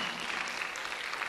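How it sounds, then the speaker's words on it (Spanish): A church congregation gives loud, sustained applause during a Spanish-language worship service, a dense, steady clapping that fills the space without pause. "denle un aplauso fuerte al Señor Jesús"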